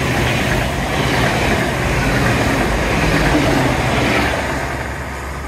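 A train rumbles steadily past along the seawall at Teignmouth with a broad, continuous roar that swells and eases slightly, loud and close throughout.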